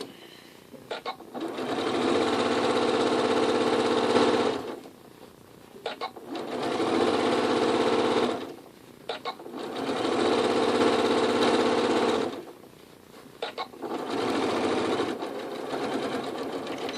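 Sewing machine hemming a small doll skirt, running in four loud sustained bursts of a few seconds each, separated by brief pauses with light clicks and fabric handling.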